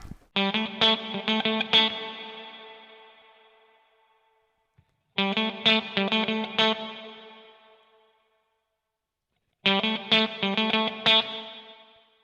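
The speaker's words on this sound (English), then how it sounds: "we're going to start with something fairly big, and I'll have the reverb fairly high" Three short electric guitar riffs through a Mad Professor Silver Spring Reverb pedal set high, each a quick run of picked notes that rings out into a long, splashy reverb tail before silence.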